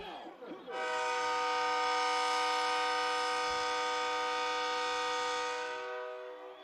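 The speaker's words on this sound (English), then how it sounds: "And there's the train whistle." A loud, sustained train whistle blasts steadily for several seconds with rich harmonic tones at a high school football game, then fades slightly at the end.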